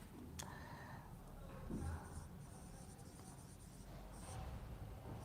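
Chalk or marker writing on a board in a classroom lesson, soft scratchy strokes in short bursts against steady low room noise, faint and fairly distant.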